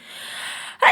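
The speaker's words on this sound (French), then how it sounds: "j'éternue," A person sneezes once, up close: a drawn-in breath builds for most of a second, then ends in a short, sharp burst.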